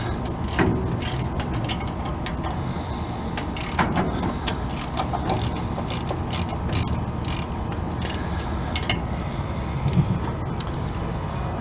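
Steady clicking of a ratchet loosening bolts on an engine governor, continuous mechanical ratcheting with scattered sharper clicks throughout, close and alone without talk.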